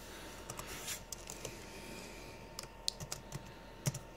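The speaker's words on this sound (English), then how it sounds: "Sorry, I'm typing one-handed," Someone types one-handed on a computer keyboard, producing quiet, irregular clicks at a close distance over low background hiss, with no voice present.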